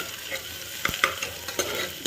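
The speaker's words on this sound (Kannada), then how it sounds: "ಈಗ ಒಂಚೂರು ಬಿಸಿ ಆಗತ್ಲೆ ಈರುಳ್ಳಿ ಹಾಕಿ ನೋಡ್ರಿ ಈರುಳ್ಳಿ ಹಾಕೊಂಡೆ" Onions sizzle and crackle in hot oil, with a few sharp metallic scrapes of a spoon stirring in the cooker.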